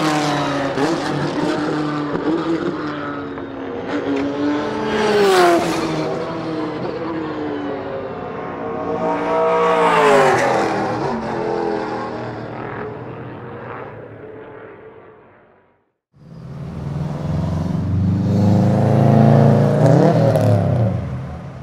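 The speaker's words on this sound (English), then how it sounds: "listen to this audio of some GT cars using the method of sustained gear changes when approaching a bend" GT race cars rev-match with sustained downshifts approaching a bend, loud engine notes rising and falling in repeated sweeps before a brief gap and another car's deep roar.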